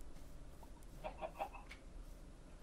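A Minecraft chicken gives a few short, faint clucks over a low background hum in the blocky video game, with no talking.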